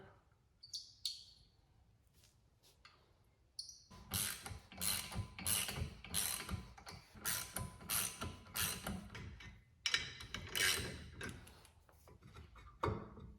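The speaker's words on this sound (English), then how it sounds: "Now we are ready to remove the rotor. We've got our 2 bolts right here." Ratchet loosening the rear brake rotor bolts on a BRZ/FR-S/86 with the Brembo performance package: a few quiet clicks, then a long run of steady, close ratcheting clatter with brief pauses.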